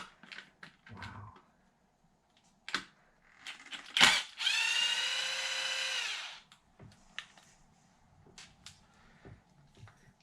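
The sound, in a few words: Extreme RC Precision driver bits unscrewing hardware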